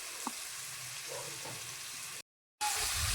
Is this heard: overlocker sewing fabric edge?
no